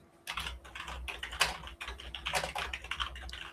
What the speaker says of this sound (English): Well, somebody's feverishly typing away.